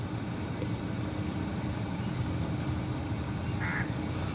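Maruti Suzuki Ertiga with an aftermarket CNG kit idling steadily on petrol while waiting to switch to CNG, a constant close engine drone with no revving and a brief faint tick near the end.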